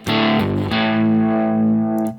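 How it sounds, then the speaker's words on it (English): Electric guitar played through a Neural DSP amp plugin, with a studio reverb at the end of the chain: a few picked notes ring into one sustained, lightly driven chord that fades into a short reverb tail. "You even have a reverb at the end with the studio verb, which is just a little bit"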